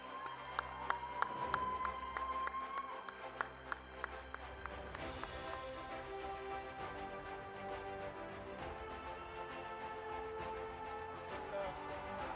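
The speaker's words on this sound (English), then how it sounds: "round of applause, please, for Shad Al-Dosari." Applause for a graduate crossing the stage at a school graduation ceremony, sparse distinct claps and light cheering in a large hall, heard from a distance at low level.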